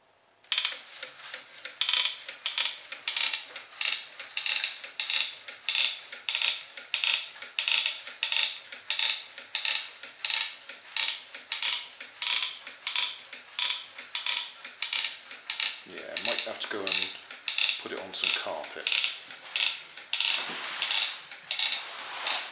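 A small inchworm crawler robot built from old DVD-drive parts clicks and ticks steadily in a regular mechanical rhythm as it moves across a smooth surface, close and moderately loud, with a brief scraping shuffle near the end.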